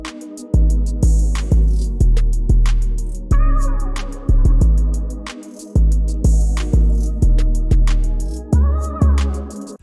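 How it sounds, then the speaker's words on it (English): Deep 808 bass in an ambient FL Studio hip-hop beat, booming notes repeating in a steady pattern with occasional pitch slides, each hit decaying before the next, with sparse melodic layers above and no voices. "our 808 pattern sounds something like this"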